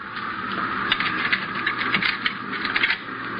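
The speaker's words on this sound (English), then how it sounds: "Now, here. Pick up these keys and open that door." Keys jangle and rattle against a door lock in a radio crime drama, a steady run of small metallic clinks and mechanical clicks up close, with no voices over it.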